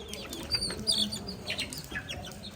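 Chickens cluck, chirp and flutter close by behind a house, with soft rustling over steady outdoor background noise.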